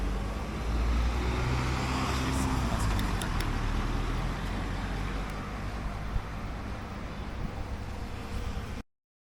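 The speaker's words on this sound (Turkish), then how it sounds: "şimdi skuterla bir tur atıyoruz ve havadan dışarıdan nasıl gözüküyor ona bakıyoruz." Segway F3 Pro electric scooter ridden outdoors, a steady broadband rush of wind and road noise filling the whole stretch at constant loudness, with faint ticks and clicks scattered through and no clear engine tone.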